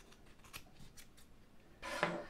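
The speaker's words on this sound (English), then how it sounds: "You take your scissors." Scissors cutting yarn strands for a Ravel Tales craft, several quiet close snips in a loose series followed by a louder, longer snip near the end, with no talking.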